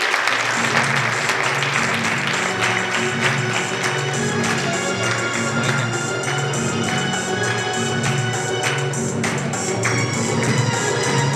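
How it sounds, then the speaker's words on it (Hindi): Sustained, loud applause from a crowd welcoming guests at a convocation ceremony, with steady clapping that runs for over ten seconds over a background of music or ambient tones. "सभी लोग जोरदार तालियों से उनका स्वागत करिए।"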